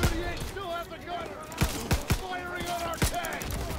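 Gunfire in the World War II shooter Call of Duty WWII: several sharp, loud shots at irregular intervals over a steady bed of game music and ambience, with a person talking throughout.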